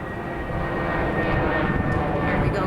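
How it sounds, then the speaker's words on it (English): A fixed-wing airplane passes overhead in cold open air, its broad engine roar steady and fairly loud, swelling slightly over nearly three seconds with no talking. "Oh man, I hear a plane."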